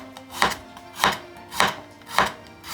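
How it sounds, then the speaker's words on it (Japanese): Garlic being thinly sliced with a kitchen knife on a board, four crisp evenly spaced cuts close up with nothing else over them. "ニンニクは薄切りにしておきます。"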